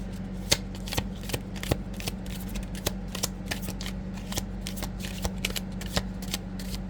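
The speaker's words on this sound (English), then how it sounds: "See if I can fast shuffle." Playing cards are shuffled quickly over and over, a crisp riffling with sharp snaps repeating at a fast, fairly even pace against a low steady hum.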